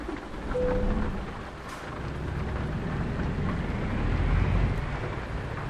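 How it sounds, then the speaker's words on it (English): Steady rain falls in Euro Truck Simulator 2 while a truck drives through Bulgaria, making a continuous broadband hiss with a low rumble underneath, fairly even in loudness, with no talk. "but unfortunately it's raining."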